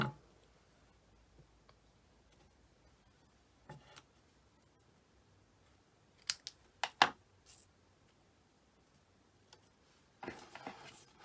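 Scissors snipping paper at an angle during a mixed-media scrapbook layout, a few quiet isolated clicks and then a quick cluster of sharp cuts, with near silence between them.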